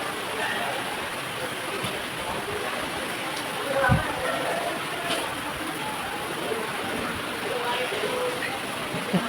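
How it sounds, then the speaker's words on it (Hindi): Heavy rain pours down in a jungle amid strong wind, a steady broadband hiss of falling water with a brief thump partway through and a speaker talking faintly underneath. "पूरा बहुत तेज़ बारिश होने लग गई है"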